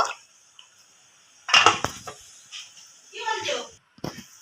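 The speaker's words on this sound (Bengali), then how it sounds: "একবার ঢাকনাটা খুলে নেব।" Lid lifted off a pot of rasgulla boiling in syrup on medium heat, giving a short metallic clatter and scrape of the lid against the pot, with bubbling and light clinks after it, close and fairly soft.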